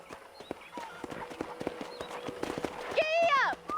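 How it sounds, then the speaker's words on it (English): Horse hooves clip-clop in a steady rhythm while riding in Red Dead Redemption, with a whinny rising near the end over a low outdoor background. "let's see if you can still ride a horse"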